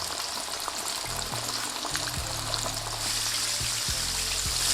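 Breaded chicken wings deep frying in hot oil, a steady close crackling sizzle with faint stirring bumps, growing slightly louder toward the end.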